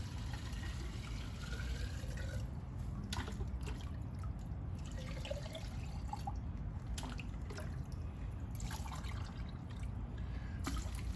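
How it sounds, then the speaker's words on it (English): Water trickles and drips steadily into a bucket for several seconds, a faint, continuous splashing with occasional louder drops, close by and with no talking. "Now this bucket, we're to determine how much water it takes to fill this."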